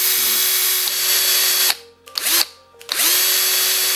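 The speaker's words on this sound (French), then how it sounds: "tout au fond, c'est le mode de perçage un peu plus brutal" A Bosch PSR 14,4 LI-2 cordless drill-driver runs in drilling mode, a loud close whine held for nearly two seconds, then cut off and restarted in two short bursts before spinning up again.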